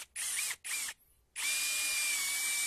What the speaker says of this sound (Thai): หรือจะใช้เป็นบล็อกหกเหลี่ยมลักษณะแบบนี้เอาไว้ยิงสกรูยึดหลังคาก็สามารถทำได้ดีเช่นกัน